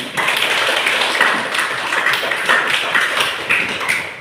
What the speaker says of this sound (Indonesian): beri tepuk tangan untuk Indri